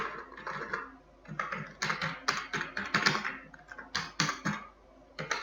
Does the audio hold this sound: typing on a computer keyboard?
yes